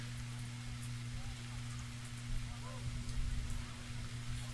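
Steady rain falls on Quench Stadium at Vaughan Grove during a men's soccer match, a broad continuous hiss with a constant low hum underneath and no clear voices.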